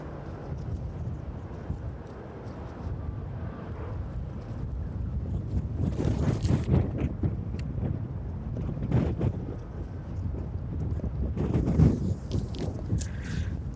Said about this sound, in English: That wind is definitely going to cause me a bit of a challenge this evening.